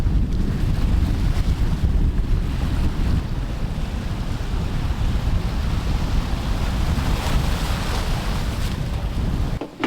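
Ocean waves wash steadily at Sapphire Beach on St. Thomas in the US Virgin Islands, a loud, continuous surf roar mixed with strong wind buffeting the microphone, with no voices.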